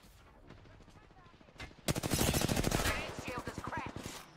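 Automatic gunfire in Apex Legends, a sustained rapid burst of loud shots in the middle, followed by scattered quieter shots, with a voice line briefly heard beforehand.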